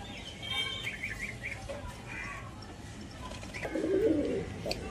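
Madrasi pigeons cooing, several soft low coos near the mic with a louder burst toward the end, amid light chirps and background murmur.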